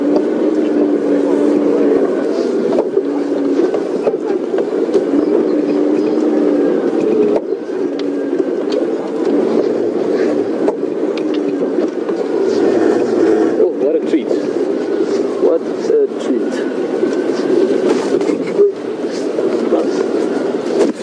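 A safari vehicle on a WildEarth morning game drive pulls away, its engine holding a steady low drone with occasional clunks and rattles from the chassis as it moves along a track, continuous and fairly loud throughout with voices talking over it.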